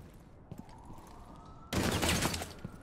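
A SPEAR .308 rifle fires in Rainbow Six Siege, a sudden loud burst of shots that breaks in midway after a quiet stretch.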